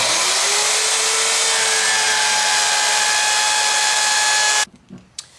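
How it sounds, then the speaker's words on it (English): A router cutting along the side of a wooden guitar neck, a loud steady high whine with tonal overtones that runs continuously and then cuts off abruptly near the end, leaving a few faint knocks. "bring the router in and slowly bring it backward, and then it'll cut in the opposite direction"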